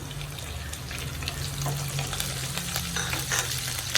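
Green chillies frying in a pan for kadumanga mango pickle, a close, steady sizzle with light stirring clatter throughout.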